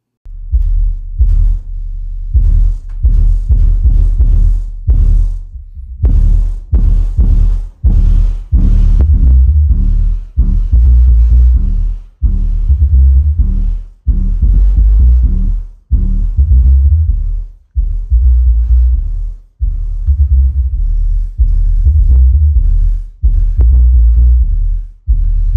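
A quad subwoofer box powered by an Andeman AS-2200.D amp pounds out heavy, booming bass in rhythmic bursts with short gaps between them. The sound is very loud and close, with no talk.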